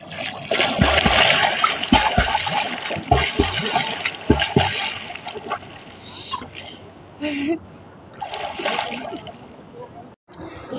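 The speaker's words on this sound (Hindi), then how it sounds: "पानी देकर डुबकी लगाएंगे।" Water splashes loudly at a river bank as people take dips during a ritual immersion, repeated heavy splashes and sloshing mixed with talking voices.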